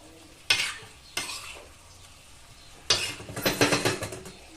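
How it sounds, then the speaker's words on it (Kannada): A spoon stirs chicken sukka with coriander garlic paste in a sizzling pan, giving short scraping bursts, then a longer run of rhythmic stirring and frying, close and fairly quiet, with no talk. "ಕೊತ್ತಂಬರಿ ಬೆಳ್ಳುಳ್ಳಿ ಆ ಪೇಸ್ಟನ್ನು ಇದರಲ್ಲಿ ಚೆನ್ನಾಗಿ ಈ ರೀತಿ ಮಿಕ್ಸ್ ಮಾಡಿ."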